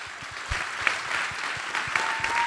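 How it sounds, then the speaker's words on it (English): Audience applause at a political campaign event in Pennsylvania with the Vice President, a dense steady wash of clapping from a large crowd that fills the whole stretch without letting up. "let's give them another round of applause"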